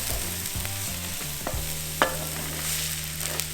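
Onions sauté in a pan, cooking until soft and translucent, with a steady close sizzle and rhythmic scraping stir strokes, one sharp clink partway through, no voices.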